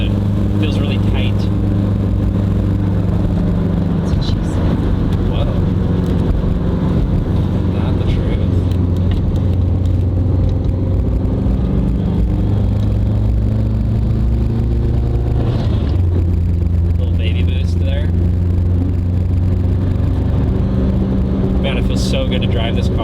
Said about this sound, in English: So good to drive this car.